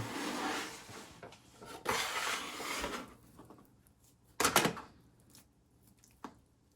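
Stretching and folding sourdough bread dough: soft rubbing and slapping handling noises, a few broad bursts of friction with brief thuds, close and fairly quiet, no talking.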